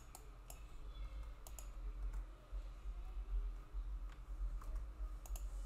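Close, quiet computer keyboard typing in a steady patter, with sharp mouse clicks mixed in while a filename is entered and saved.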